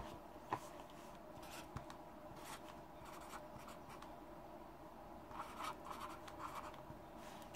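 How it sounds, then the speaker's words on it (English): Pen or pencil writing an answer by hand on paper, faint close scratching strokes in short bursts against a quiet room hiss. "And then maybe I would write it down."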